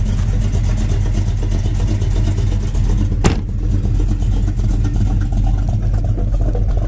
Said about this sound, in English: This thing's got a great sound and cam to it. It's just got a nice lope.